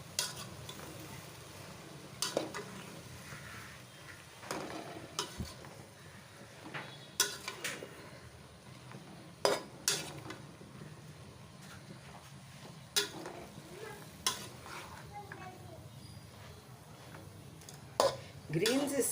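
Spoon stirring greens and potato in a pan over low heat, with irregular scrapes and clinks against the metal over a faint sizzle.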